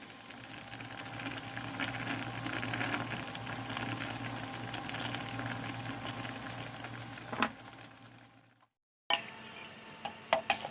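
A steady bubbling simmer of a pot of kabocha squash boiling in water, fairly soft and continuous, ending with a brief silence and a few clinks.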